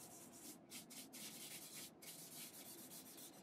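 Soft, faint rubbing of pencil across paper while smoothing tone on a portrait drawing, a continuous hushed scratchy whisper with a few slight dips in rhythm; no talking.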